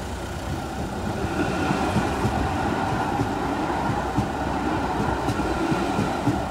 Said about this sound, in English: I like these trams.